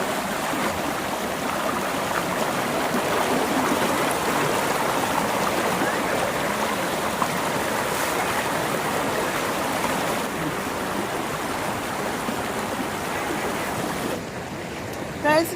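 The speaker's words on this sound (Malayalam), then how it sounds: "നല്ല ഫോഴ്സിലെ വെള്ളം തന്നെ ഉണ്ട്. നമുക്ക് കാണുന്ന പോലെയല്ല, നല്ല പ്രഷറുണ്ട്." Strong, pressured stream water rushes steadily at an eco-tourism spot in Ernakulam, a broad continuous roar close by with little variation, ending in a brief quieter moment.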